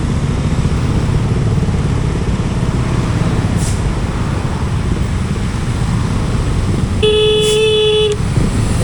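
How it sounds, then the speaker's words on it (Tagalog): A long vehicle horn blares through heavy road traffic in the Philippines, sounding for about a second near the end over a constant loud rumble of engines and passing cars. "biglang bumusina lang napakahaba"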